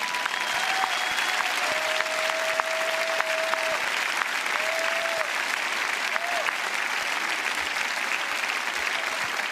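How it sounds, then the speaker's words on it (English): A large crowd of thousands applauds after a speech by an ambassador, the clapping dense and continuous throughout, with a few whistles rising over it. "And you all now deserve a round of applause."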